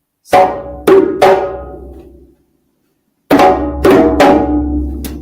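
Sharp hand drum strokes ring out alone, three hits, a pause, then three more, mixing crisp slaps with rounder, resonant tones.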